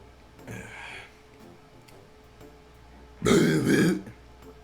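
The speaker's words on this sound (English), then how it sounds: "Is that a little burp?" A person burps loudly into a microphone during a video game session, a short faint sound first, then a long, rough, close burp after a pause.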